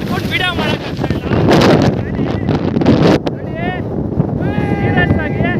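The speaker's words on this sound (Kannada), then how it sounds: "ನಿಜ ಸಖತ್ ಗಾಳಿ. ನೋಡಿ, ಫೋನೇ ಹಿಡ್ಕೊಂಡು ವಿಡಿಯೋ ಮಾಡಕ್ ಆಗ್ತಾ ಇಲ್ಲ" Strong hilltop wind at Sakleshpura buffeting a phone microphone, producing loud rumbling roars and gusty bursts while people talk over it.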